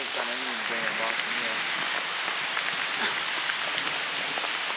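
Heavy rain pours down in a dense, continuous hiss, loud and steady from start to end, while a voice speaks briefly at the start.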